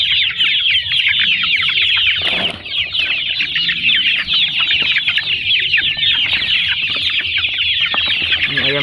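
Joper chickens clucking continuously and close by while eating fermented feed, a dense busy chorus of overlapping clucks with a brief flap or rustle partway through.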